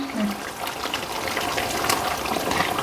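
Water is poured into a simmering tamarind kuzhambu in a home kitchen, giving a steady, close splashing and trickling wash that fills the whole moment without pause.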